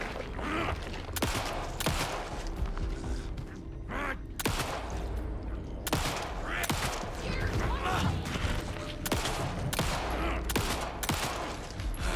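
Rapid, repeated gunfire in the horror video game Alan Wake 2, with sharp bursts recurring across the stretch over a dense, noisy game soundscape, and a voice speaking at times.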